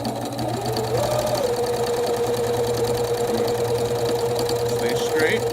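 A domestic sewing machine stitches quilt fabric in a steady, fast mechanical whir that runs continuously near the listener, with a voice talking briefly over it.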